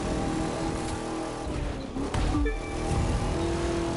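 A Ford Crown Victoria being driven in the racing game The Crew 2 gives a loud, continuous engine drone with a tonal whine that dips and swells as the car shifts and changes speed.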